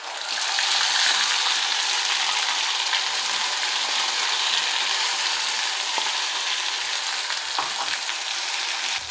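Ground spice paste dropped into hot oil tempering for a Khandesh-style urad dal, producing a loud, dense, continuous sizzle with crackling spatter that holds steady throughout.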